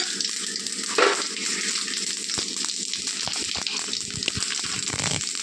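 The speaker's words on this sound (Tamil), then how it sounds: "இதில் நம்ம கடுகு போட்டுக்கலாம். கடுகு, ஜீரகம் போட்டு காஞ்ச மிளகாய்," Mustard seeds and cumin spluttering in hot oil for a South Indian tempering, a steady close crackle and hiss throughout with a brief louder burst near the start.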